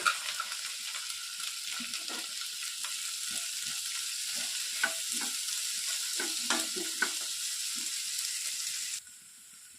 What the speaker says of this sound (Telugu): ముందుగా కట్ చేసి పెట్టుకున్నటువంటి two medium size onions two medium size tomato ఒక గుప్పెడు కొత్తిమీరను వేసి బాగా ఫ్రై చేసుకోవాలి